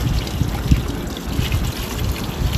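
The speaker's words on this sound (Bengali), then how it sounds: "এই জন্য আমি ভালো করে লাউটাকে ধুয়ে পরিষ্কার করে নেব।" Tap water runs steadily over a bottle gourd being washed, a close, continuous splashing trickle with soft irregular splatters as hands turn it.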